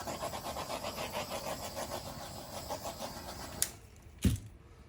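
A canvas spinner whirs with a rapid, pulsing mechanical rattle as it spins a round acrylic pour canvas, faint and steady, then stops with a couple of sharp knocks.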